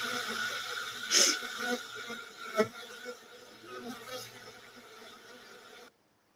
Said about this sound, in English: These are actual stingless bees.